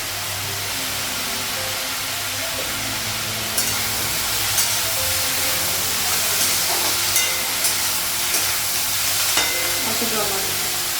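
Curry leaves frying in a pan for a Bengali home-cooked dish, a loud, steady sizzle with bright crackles and a few sharp spatters and stirring clicks throughout.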